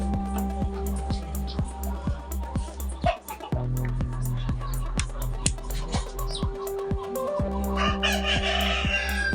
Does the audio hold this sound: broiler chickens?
yes